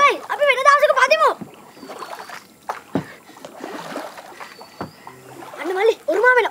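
A wooden canoe is paddled on water with a strong current, with soft splashes and sloshing strokes between stretches of people talking nearby.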